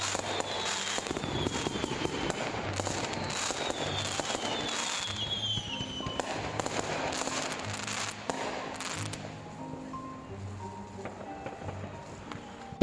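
Firework sound effects played over a livestream: a steady run of crackling pops and bursts, dense for the first several seconds and then thinning into scattered cracks, with faint background sound underneath.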